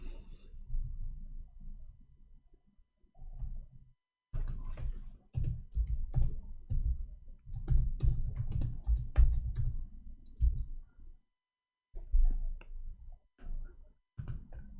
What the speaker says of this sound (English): I will type 2021.